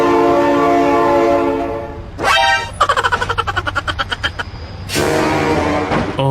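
A train in the BeamNG.drive video game sounds a long, loud horn blast, then rapid rhythmic clatter of wheels passing close by, followed by another sustained horn blast.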